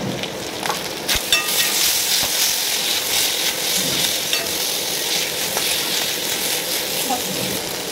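Chopped tomatoes and green chili hit a hot pan for a chicken offcut curry, giving a steady, close sizzle and frying hiss with occasional stirring clatter throughout.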